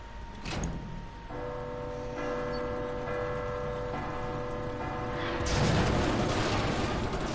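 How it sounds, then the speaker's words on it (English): In the Resident Evil 2 Remake, a bell tolls inside the police station: a sharp strike rings out, sustained metallic tones hum and fade amid mechanical clunks, then a louder rumbling clatter swells near the end. "Ding dong bell."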